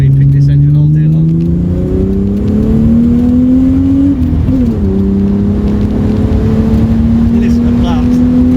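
A supercharged VR6 engine in a Mk2 Golf pulls hard under load, its droning note climbing steadily, dipping briefly at a gear change, then rising again, loud and close from inside the car.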